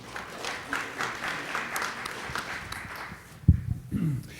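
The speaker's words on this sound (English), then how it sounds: "Give them a round of applause." Applause from an audience at a panel event builds as a steady patter of clapping, then thins and fades near the end, where a few louder thumps and brief murmurs break through.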